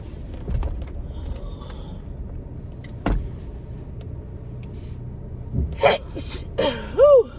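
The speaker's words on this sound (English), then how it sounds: "These sneezes are wicked." A few short sneezes inside a car, with the steady road hum of a moving vehicle running underneath.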